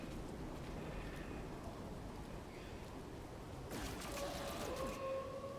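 A storm sweeping in across a No Man's Sky survival planet: steady hissing rain with wind, and a low rumble of thunder swelling near the end.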